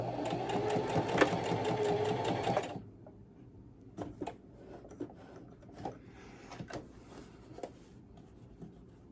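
A sewing machine stitches a 3D octagon mask with an aluminum nose strip, running in a steady close whirring burst for under three seconds, then stopping, followed by quiet fabric handling and light clicks.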